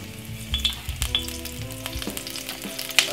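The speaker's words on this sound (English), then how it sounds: "let's put on some garlic inside of it, make the garlic fry out first inside of the oil" Chopped garlic fries in hot oil in a home kitchen, a soft continuous sizzle broken by scattered pops and a few scrapes of stirring, no speech.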